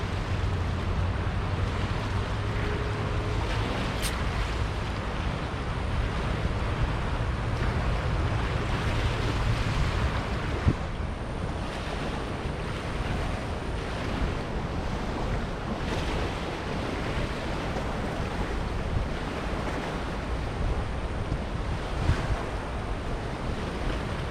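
A river swollen with floodwater after a hurricane rushes in a dense, continuous roar, mixed with gusty wind buffeting the microphone throughout.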